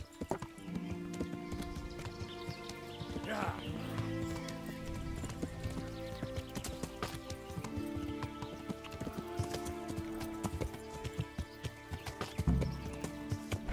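Horse hooves clip-clop steadily in the medieval video game Kingdom Come Deliverance, a continuous galloping rhythm close up, with a brief neigh partway through and a few heavier thumps near the end.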